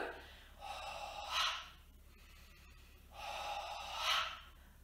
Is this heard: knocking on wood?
no